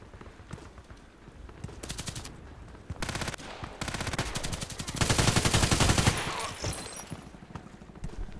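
Assault rifle gunfire in the video game Contract Wars, rapid automatic bursts of varying length, loud and close, intensifying into a longer sustained burst, with a voice talking briefly.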